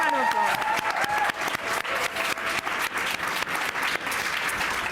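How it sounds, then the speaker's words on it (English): Applause from the audience at an art panel conversation, a dense wash of many hands clapping that starts strong and slowly thins, with a voice briefly heard at the start. "So another round of applause."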